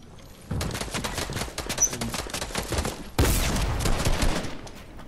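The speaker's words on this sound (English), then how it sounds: "There's still a guy shooting behind me, but he can't really hit me." Gunfire in Fortnite during a squad match, a rapid burst of shots lasting several seconds, then a brief pause and a second loud sustained volley, close and dominant with no talking.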